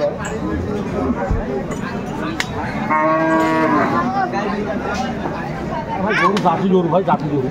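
Cow and calf mooing in the busy Aftabganj cattle market in Dinajpur, a drawn-out moo standing out mid-clip and another call near the end, with steady crowd chatter and voices talking throughout.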